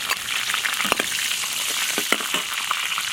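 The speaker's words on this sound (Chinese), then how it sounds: "锅里再烧一点油，下入干辣椒、麻椒" Dried chilies and Sichuan peppercorns sizzle and crackle steadily in hot oil in a wok, with scattered sharp pops over a continuous frying hiss.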